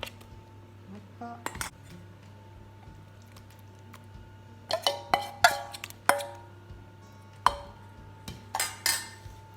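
A spoon or spatula knocks and scrapes in a bowl of apricot cake batter, giving sparse clinks at first and then a cluster of sharp taps and scrapes. A constant low hum sits underneath.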